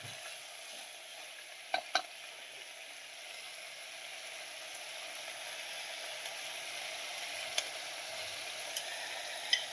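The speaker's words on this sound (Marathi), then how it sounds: "आता मी जो मसाला आहे ना फोडणीचा घेतलेला तो टाकते" Tempering spice masala dropped into hot oil for sambar, a steady even sizzle with a few sharp clicks and taps early on and near the end.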